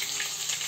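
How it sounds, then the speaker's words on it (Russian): Cutlets frying in a pan on a home stove, a steady broadband sizzle that stays even and close throughout, with no talk over it. "Котлеты жарятся, картошка подогревается."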